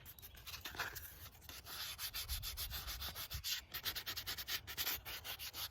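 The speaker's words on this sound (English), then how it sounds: "You literally, sand it to powder, which is pretty amazing." A fairy house piece gets its edge sanded by hand with fast, steady back-and-forth gritty rasping strokes, close and continuous, no talking.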